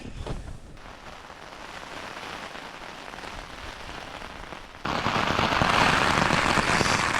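Steady rain patters on a Lanshan 1 tent at night, a dense continuous drumming that suddenly grows louder and heavier partway through, with no voices.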